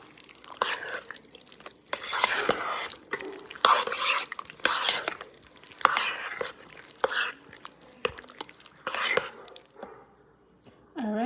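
A jar of brown gravy is stirred into a pot of rice and beans, making wet, squelching scrapes in uneven bursts at close range, with quiet talk in between.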